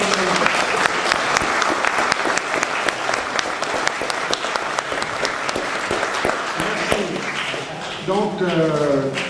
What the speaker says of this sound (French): Je vous demande d'applaudir Daniel, c'est grâce à elle.